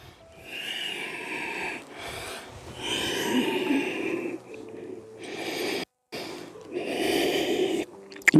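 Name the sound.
breathing through the nose in yoga child's pose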